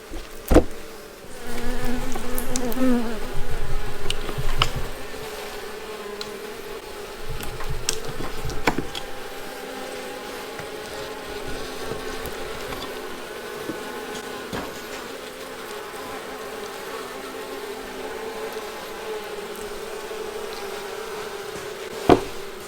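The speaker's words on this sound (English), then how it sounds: "we're going to end up bringing a whole bunch of bees in here with us this time" Many honey bees drone and buzz continuously nearby during a honey harvest, a steady hum with occasional knocks and clicks scattered throughout.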